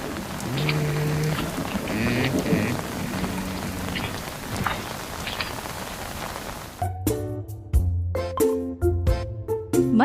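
Steady rain pours down in a dense, continuous hiss for several seconds, then gives way to sparser, distinct drops and splashes that land close by.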